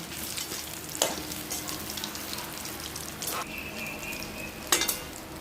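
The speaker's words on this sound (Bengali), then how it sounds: "এটা খুব অল্প তেলেই ভাজা হবে" Soybean balls (bora) frying in a small amount of oil give a steady, close sizzle and crackle, with a few brief clinks of a utensil against the pan.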